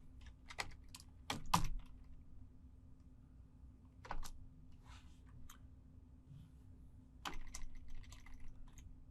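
Typing on a computer keyboard to enter a terminal command, quiet clusters of key clicks in short bursts separated by brief pauses, close and soft.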